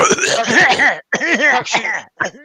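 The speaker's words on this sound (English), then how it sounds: "Clear your throat" A voice clears its throat in a few rough, drawn-out bursts, loud and close, with brief pauses between them.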